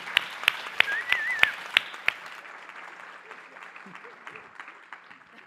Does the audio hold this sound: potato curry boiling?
no